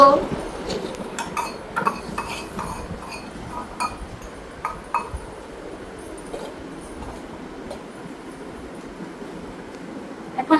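Toy pots and utensils clatter and clink in quick, irregular bursts while pretend vermicelli is cooked for a doll, the knocks busiest early and thinning out, with a voice talking at times.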